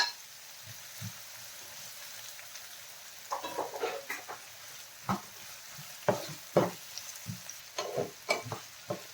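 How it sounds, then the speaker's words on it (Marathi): Onion and tomato are sautéed in a pan for an egg masala, with soft intermittent scraping stir strokes and a faint sizzle in the background. "कांदा आपल्याला थोडासा परतून घ्यायचा आहे।"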